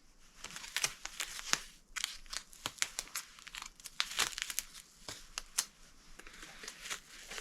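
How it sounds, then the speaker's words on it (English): Blue painter's tape peeled and pulled off a paint roller in a series of sharp, close crinkling rips and tears, irregular bursts with brief pauses between them, no talking. "if you just wrap it with blue painter's tape and then take the tape off"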